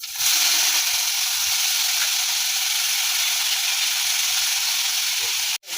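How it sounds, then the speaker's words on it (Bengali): Chopped onion fries in hot oil in a wok, a loud, even hiss and sizzle that holds steady throughout, with faint stirring underneath and a brief clatter at the end. "কড়াইতে তেল দিলাম"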